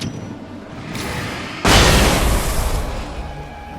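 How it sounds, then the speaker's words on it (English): Flashbang grenades go off in the video game Alan Wake, a loud broadband burst that hits suddenly partway through and then decays slowly after a softer rumble of game noise. "Wow, the flashbangs are very, very, very good."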